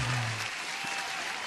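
A short burst of applause and cheering plays as a sound effect on a live trading stream, a steady crowd wash at moderate volume with no one talking over it.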